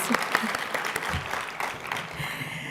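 Audience members at a Palm Springs architectural preservation symposium give a round of applause, a close, crowded patter of many hands clapping steadily without a break.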